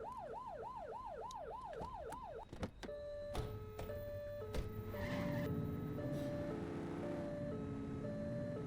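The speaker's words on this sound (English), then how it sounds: "Turn that siren off. We don't need it on right now." Police car siren in the video game Precinct, wailing in rapid up-and-down cycles before cutting off, then followed by clicks, electronic beeps and a low engine hum.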